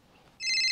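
A phone ringtone bursts in partway through, a loud, bright electronic ring held steadily after a quiet moment, set in a Rajasthani comedy scene.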